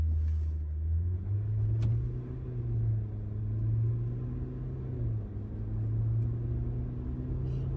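A Ford Ranger Wildtrak in 2-wheel drive pulls away under acceleration, its low engine rumble rising and falling steadily throughout, close and continuous with no talk.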